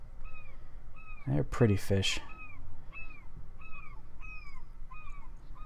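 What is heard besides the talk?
seagulls calling in the video game Fishing Planet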